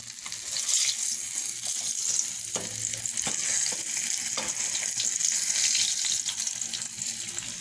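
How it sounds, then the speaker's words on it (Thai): Mackerel sizzles steadily in a hot frying pan, a dense continuous crackle of spitting oil with occasional soft clinks of a utensil, close and fairly loud throughout with no voices. "ทอดปลาทูหอมม"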